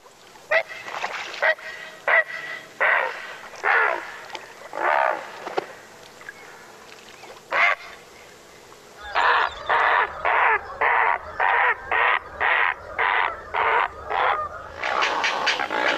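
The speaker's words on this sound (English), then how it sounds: "Take a listen to him. Great blue heron." A great blue heron gives a series of harsh, croaking squawks, first spaced irregularly and then in a quicker run of evenly repeated rasping calls, loud and close with little else around.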